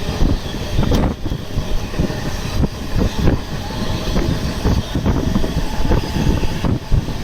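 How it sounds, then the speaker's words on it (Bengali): A commuter train running from Akra toward Nungi station on a cold morning, with a steady rumble and repeated rattling clacks of the carriages, close and continuous, with wind noise over it. "সকালবেলা ঠান্ডার সময় আগ্রা থেকে ট্রেন ছেড়ে দিয়েছে, নুঙ্গি সেই স্টেশনের উদ্দেশ্যে যাচ্ছে।"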